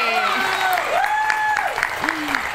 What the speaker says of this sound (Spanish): ¡Fuerte el aplauso de nuevo!